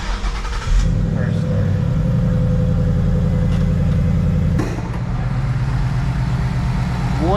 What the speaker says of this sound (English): We've got a push button start.